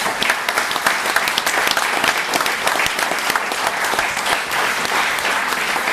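Sustained applause from a theatre audience at a live comedy stage performance, dense steady clapping that fills all six seconds with no breaks.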